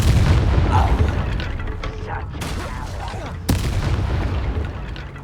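Incendio fire spells cast in the Hogwarts Legacy video game, heavy booming bursts with sharp cracks among ongoing combat noise, one strong impact standing out partway through.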